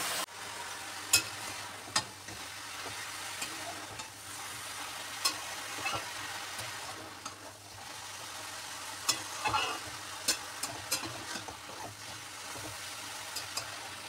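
Bottle gourd fries in a pan with onion, green chilli, garlic and mustard seeds, giving a steady close sizzle broken by scraping spatula stirs and occasional sharp pops.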